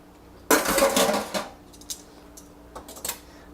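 A metal trivet is lifted out of an Instant Pot's inner pot, making a short burst of scraping metal clatter followed by a few light clinks and taps.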